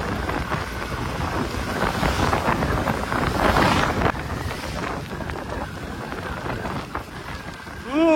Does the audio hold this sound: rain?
yes